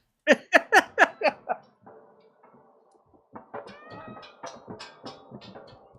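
Cat meowing in the video game Stray, a rapid run of five or six loud meows, then a softer stretch of mewing and chirping cries with a faint hum behind.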